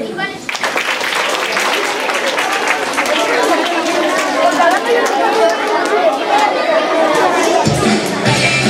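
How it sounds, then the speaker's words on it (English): Crowd chatter and clapping at a Year Two Christmas concert in 2016, a dense, steady wash of many voices and scattered applause filling the room for several seconds. "A big applause for them."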